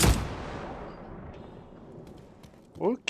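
A shotgun fires in the space game Star Citizen, one loud booming blast with a long fading tail right at the start, followed by a brief spoken word near the end.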